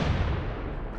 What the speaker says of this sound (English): 8-inch howitzers lined up side by side practically,